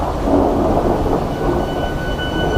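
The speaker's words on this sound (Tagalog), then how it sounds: "Bumuhos ang malakas na ulan" Heavy rain pours down in a steady, dense roar with a deep rumbling undertone, close and loud without letup.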